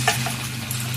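Scrambled egg with tomato and onion frying in a pan, a soft steady sizzle with a couple of quick utensil clicks, heard briefly.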